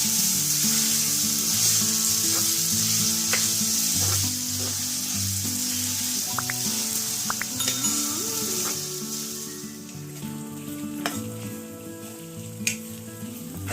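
Onion frying with a little salt in a pan for a spicy prawn masala, giving a steady, fairly loud sizzle with occasional clinks and stirring scrapes of a utensil.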